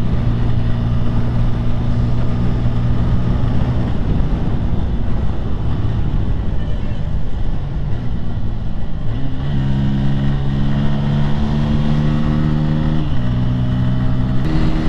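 Bajaj Pulsar N150 motorcycle engine accelerating through gears, a steady droning engine tone under constant wind buffeting, with pitch steps as gears shift near the middle and toward the end.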